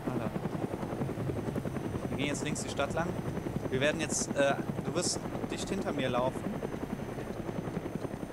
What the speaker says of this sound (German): Wo ist der Heli?